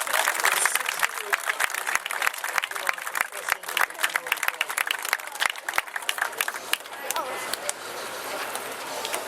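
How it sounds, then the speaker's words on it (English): An outdoor crowd at the Special Olympics torch run finale in San Francisco applauds law enforcement runners, with sharp scattered claps and cheering over a voice talking, the clapping thinning toward the end. "So let's give them a round of applause."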